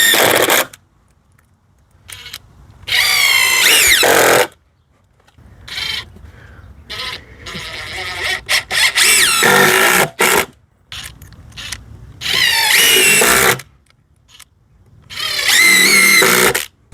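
Power drill driving deck screws into a wooden porch step during a repair, several separate whirring bursts of a few seconds each with pauses between, close and loud.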